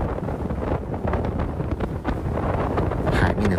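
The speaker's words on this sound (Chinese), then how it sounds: "快艇的速度非常快，" A landing speedboat travels fast over open sea near the Xisha Islands, with steady wind buffeting the microphone and the rumble of the hull and water running continuously underneath.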